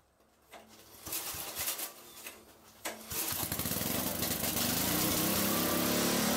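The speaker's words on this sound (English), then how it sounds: "There's the engine and the tiller in action." A garden tractor's engine-driven tiller starts up with a few sputters, then settles into a loud, steady, close running roar that holds to the end.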